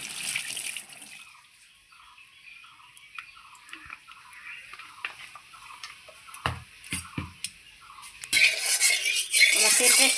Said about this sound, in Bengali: খুব সুন্দর করে আমি ওলের ডাঁটাটাকে আবারও ভালো করে ধুয়ে নিচ্ছি।